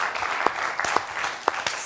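A studio audience at a Georgian comedy game show applauding: a short burst of dense clapping with a few sharper individual claps standing out.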